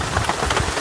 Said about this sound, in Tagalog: Malaki yung ulan.